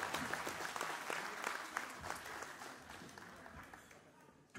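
Audience applause for the event organizers at a Rwandan community gathering in Stockholm, steady dense clapping throughout that slowly thins toward the end.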